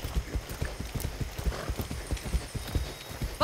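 Horse hooves gallop in the video game Far Cry 6 in a steady, rapid clip-clop rhythm close by, with a brief shout at the very end.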